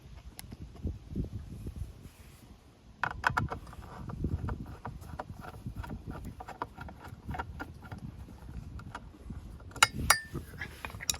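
Phillips screws being backed out of the front cover of a Razor Power Rider 360 ride-on, heard as close, irregular small metallic clicks and taps from a screwdriver against plastic, with brief rattles and clinks near the end.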